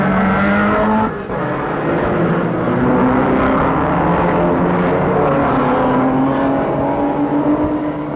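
Racing cars launch away at the start of the 1965 New Zealand Grand Prix at Pukekohe, a loud, sustained massed engine roar with rising and falling revs as the field accelerates, close and continuous.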